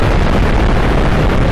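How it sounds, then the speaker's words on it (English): A nuclear missile from the Minecraft ICBM mod detonates in a massive, continuous roaring blast, a loud, dense wall of low rumble and noise that stays unbroken from start to finish, with no talking. "the devastation of the explosion and the crater it leaves is so huge"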